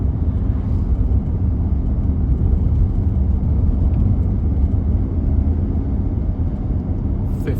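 A 2018 VW Tiguan SE pulling up through third and fourth gear at about 45 mph, a steady loud low engine and road rumble from inside the cabin with no distinct shift breaks.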